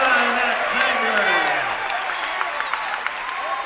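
A basketball crowd at an SMSU men's game against Upper Iowa cheers and applauds in a loud sustained roar, with a commentator talking over it throughout.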